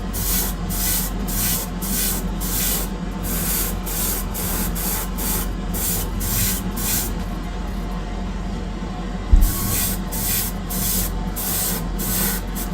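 An airbrush sprays a base coat of paint onto a heavy Greek-style vase, giving a steady close hiss broken by rapid regular pulses of spray. One brief knock sounds partway through.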